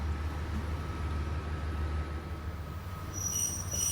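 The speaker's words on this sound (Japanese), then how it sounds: "19時19分、深浦発の電車に乗って川辺駅まで向かっていきます" Local train running from Fukaura toward Kawabe in Japan, heard from inside a carriage: a steady low rumble of wheels on track, with faint high squeals near the end, and no talk.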